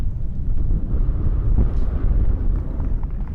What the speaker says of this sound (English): That tough right to left wind.